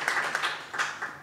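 A small group at a science forum gives brief, light clapping, a few soft bursts heard at moderate distance over a short moment.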